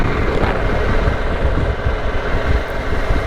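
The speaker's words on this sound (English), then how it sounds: "the wind blast is alright, not too bad. I can feel a little bit of wind" Steady, loud wind blast roars against a rider's helmet microphone on a moving 2022 Harley-Davidson Pan America adventure motorcycle. The broad rushing buffet continues without a break and buries any engine sound.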